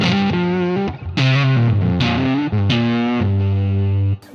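An electric guitar runs through a distortion pedal that sits first in the signal chain, playing loud, sustained overdriven chords and notes in several phrases with brief gaps between them, heard alone.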